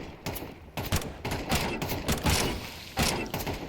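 Rapid bursts of rifle fire in a Counter-Strike 2 tournament match crack in quick clusters, several separate volleys close together with mechanical clicks between them.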